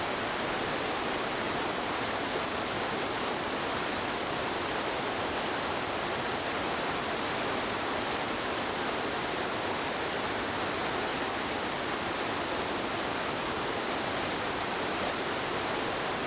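A steady, roaring rush of falling water fills the scene, constant and broadband with no pauses.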